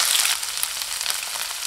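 Onions and spices with curry leaves frying in hot oil, a steady close sizzle with crackling spatter throughout and no talk.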